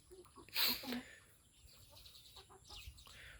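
Chickens on a Thai village farm cluck and squawk nearby, one loud burst followed by quieter scattered clucks amid farmyard background noise.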